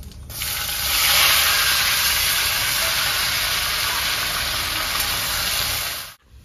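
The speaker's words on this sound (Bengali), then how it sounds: "দুটো শুকনো লঙ্কা দেবো, গোটা জিরে, আলু ঢেলে দেবো।" Potatoes, dried red chillies and whole cumin tipped into a hot oiled pan set off a loud, close, continuous sizzling hiss that starts abruptly and holds steady before cutting off.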